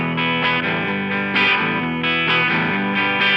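Distorted electric guitar played through a digitally recreated copy of a famous album's recording chain, loud chorused chords strummed in a steady rhythm, alone without talk.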